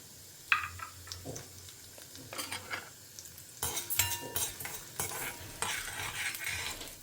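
Mustard seeds, urad dal, chana dal and dried red chillies crackle and sizzle in hot oil in a pan, with close spattering pops and scraping stirs that grow busier and louder as the tempering fries, no voices.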